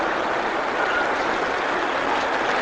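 Dense, continuous clapping from a room of teachers at a workshop, many hands beating together in a steady wash of applause with no pauses.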